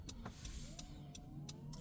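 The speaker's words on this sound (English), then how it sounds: "This model has the auto power tailgate. So just open that" Power tailgate on a Honda CR-V opening, a steady electric motor whine that rises slowly in pitch, broken by regular soft clicks, close and quiet.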